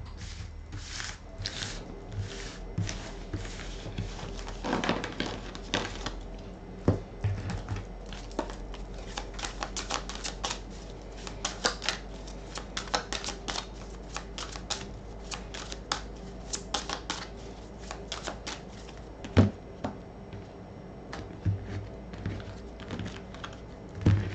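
Tarot cards shuffled for a reading, a steady close rustle of riffling and sliding cards with frequent sharp flicks running throughout, no voices.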